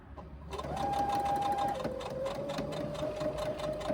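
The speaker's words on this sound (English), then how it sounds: "I've turned up my hems and I'm going to actually finish stitching." A close sewing machine whirs in a continuous run, its rapid needle rhythm steady as it stitches the turned-up hems on a crossbody bag.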